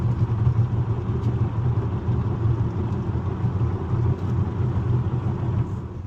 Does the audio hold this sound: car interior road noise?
yes